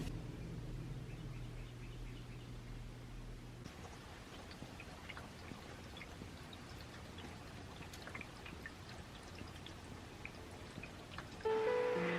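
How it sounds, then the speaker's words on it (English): Rain falls outside a home in a steady, even patter of drops that fills the whole stretch, with a low hum early on and a faint bird chirp near the end. "I noticed it started raining about half an hour ago"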